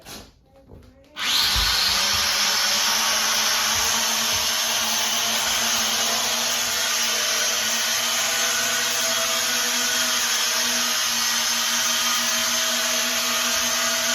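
Sharper Image Uragon S video streaming drone motors whir up after a brief quiet start, then hold a loud, steady, high-pitched buzz close by for the rest of the clip.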